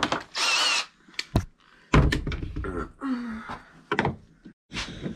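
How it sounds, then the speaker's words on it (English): A power drill whirs in several short bursts close up, drilling bolt holes into a kayak, with brief talking between them. "we're drilling the holes that go into the kayak"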